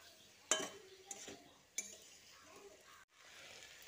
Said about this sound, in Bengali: তারপর ঢাকাটা খুলে আবারও একবার ভালো করে নেড়ে চেড়ে নিচ্ছি।